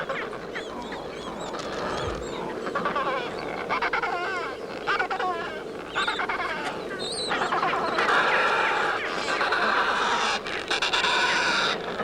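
Adelie penguins squawk and bray harshly at a gang of skuas on the Antarctic nesting grounds, a chaotic run of loud, overlapping honking calls close by over a noisy background.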